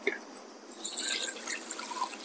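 Water is poured into a pressure cooker holding goat trotters for mutton paya curry, a short uneven splashing stream that swells and then trickles on.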